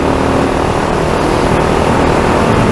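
A Fantic Caballero Scrambler 500, a 40-horsepower single-cylinder motorcycle, riding at around 60 mph, giving a loud, steady broadband engine roar mixed with wind rush that holds constant throughout.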